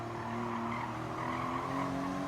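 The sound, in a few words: Porsche flat-six engine in video game Gran Turismo 7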